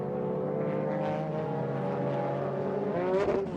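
Toyota Supra GT500 race cars at a 1999 JGTC race, engines droning steadily at high revs with a rising and shifting pitch, loud and continuous, with no speech.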